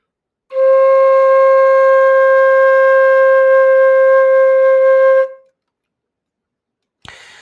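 Flute sounding a single sustained low C, a steady clear tone held for about five seconds before stopping, followed by a brief soft knock.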